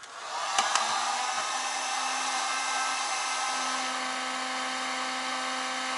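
A hair dryer blows continuously to heat an engine crankcase before fitting a camshaft bushing, a loud, steady close-up whoosh with a couple of brief clicks near the start.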